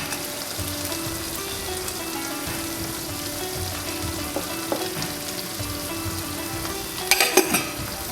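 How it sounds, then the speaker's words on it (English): Palm sugar, pepper and salt being stirred into food frying in a pan for vegetarian nasi lemak, with a steady close sizzle and a few scraping clinks of the utensil near the end. "Give it a nice stir."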